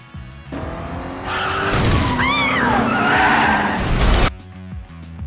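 A car skids with loud screeching tyre squeal as it recklessly sideswipes another vehicle in a film chase, the screech swelling and wavering for a few seconds over engine roar before cutting off abruptly.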